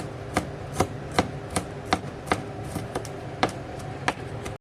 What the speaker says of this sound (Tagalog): Atin lang ito hiwain na maliliit.